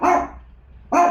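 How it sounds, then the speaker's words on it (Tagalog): A dog barks twice, loud and close, two sharp separated barks with a brief pause between them, no other voices. "Pasensya na kayo sa aso namin,"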